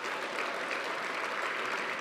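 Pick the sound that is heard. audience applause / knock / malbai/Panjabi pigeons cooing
audience applause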